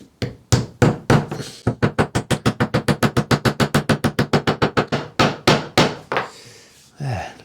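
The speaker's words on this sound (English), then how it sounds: "let's just grab the hammer and we'll just tap that gently" A hammer gently tapping a 5mm plywood inlay piece into a routed recess, about thirty close, even wooden knocks in a quick steady rhythm, slowing to a few heavier blows near the end.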